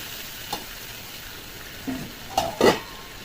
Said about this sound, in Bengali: এখন লোটে মাছটা দিয়ে দেবো, লোটে মাছটা দিয়ে দেবো।